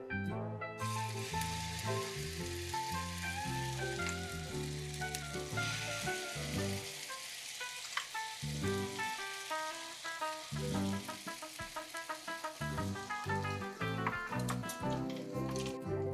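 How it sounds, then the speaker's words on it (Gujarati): Farali chilla batter sizzling in a pan greased with peanut oil, a steady crackling fry throughout, close up, with soft music playing over it. "હવે આપણે પીનટ જીના ઓઇલને ગ્રીસ કરી દીધું છે અને આપણે આપણું જે ફરાળી બેટર રેડી કર્યું છે એ આપણે હવે એની અંદર નાખી દઈશું"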